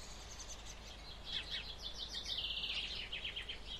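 Birds sing outdoors in a calm, peaceful setting: a series of high, quick chirps and trills, moderately faint over a soft steady background hiss, with no voices.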